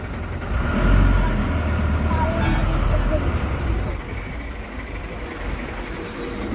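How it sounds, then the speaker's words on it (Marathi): Road traffic rumbles outside a vehicle stuck in a jam, with engine drone and passing vehicles under people talking inside, louder early on and easing slightly toward the end. "नुसते ट्रॅफिक आहे बाहेर"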